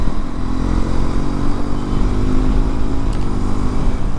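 A Hero XPulse 210 motorcycle ridden on a trail, its engine droning loud and steady up close with a rumbling low end, mixed with wind and clatter from the rough ground.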